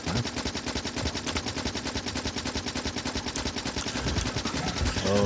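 Loud, continuous rapid gunfire from the video game Factorio with the Warptorio mod, a dense stream of fast shots rattling without pause throughout, with no talking.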